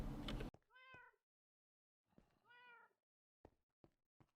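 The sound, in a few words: cat meowing outside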